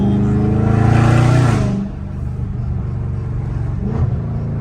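Catless Dodge Charger Scat Pack V8 exhaust in traffic, a loud deep drone that swells then drops sharply as it downshifts, followed by a lower steady rumble with a small blip near the end.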